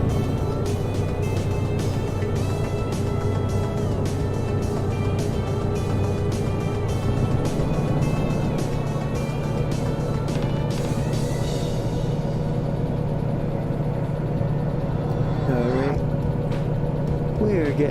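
A locomotive in Derail Valley labours uphill under throttle, a steady loud engine drone with rumbling low end and clicking wheel beats, the tone shifting slightly partway through.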